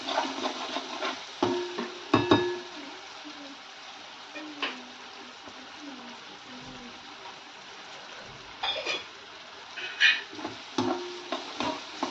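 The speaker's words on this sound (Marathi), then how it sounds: "आणि छान असं त्याला हलवून घेतलं हे चमच्याने." A spoon stirs dal in a pot, with soft scraping and wet swishing in short bursts and a few light knocks against the metal. It is close and moderately loud with a steady background hiss.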